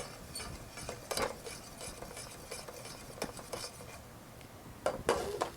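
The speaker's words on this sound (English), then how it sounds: "I have this to stir it." A spoon scrapes and clinks against the side of a pot of rice in irregular strokes, stirring steadily with a few louder knocks.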